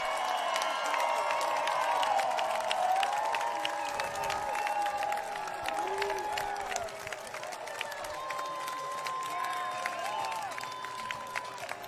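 A stadium crowd at an NCAA women's college soccer game between Stanford and Michigan State cheers and applauds after a goal. A dense, sustained roar with steady clapping runs throughout, with no break.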